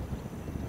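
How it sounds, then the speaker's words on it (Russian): Steady low rumbling wind buffeting the microphone near elephants in Taigan, a constant dull roar with no voices. "Ветер приличный."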